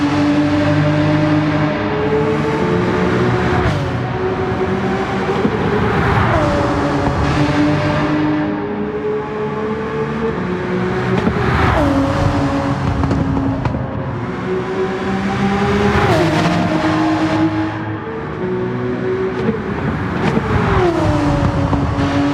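A tuned Porsche 911 GT3 (997) races in Gran Turismo 7, its engine note climbing steadily through the gears with repeated sharp shift drops. The loud, continuous flat-six howl plays without pause down the straights.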